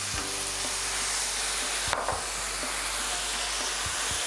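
Wine sizzles loudly with risotto rice in a hot pan as it is stirred, a constant frying hiss with a brief scrape of the spoon partway through, over a low steady hum.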